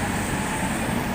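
An old Tatra T3 tram, number 8518, pulls away from the Dlouhá třída stop in Prague, giving a loud, steady rolling rumble with street noise and no pauses.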